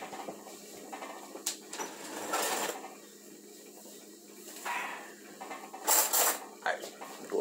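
Cutlery clinking while a spoon is fetched from a kitchen drawer, with scattered rattles and metallic knocks, a louder cluster of clatter near the end, and soft rustling between.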